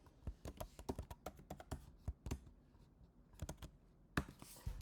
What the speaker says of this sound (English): let's go to Mac and let's type this address.